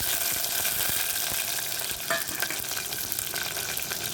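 Fenugreek seeds, vadagam and shallots fry in hot oil in a pan while cooking a shark and prawn meal, giving a steady close sizzle with occasional spoon scrapes and crackles, no talking.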